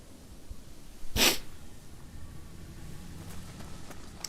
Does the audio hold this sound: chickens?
no